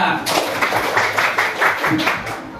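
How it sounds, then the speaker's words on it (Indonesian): A small group in a classroom claps in a short rhythmic burst of hand claps, close and fairly loud, with voices mixed in. "Tepuk tangannya."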